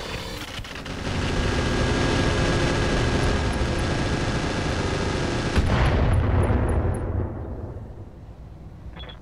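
Heavy mech weapons firing in Roguetech, a sustained loud barrage of dense rapid gunfire and rumbling blasts lasting several seconds, ending in a final burst that tails off into quiet.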